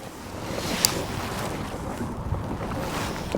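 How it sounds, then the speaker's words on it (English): Strong wind on open water buffets the microphone with a constant roar and gusty rumble, mixed with wave wash around a boat on a fishing outing. "this wind is a little too intense for me"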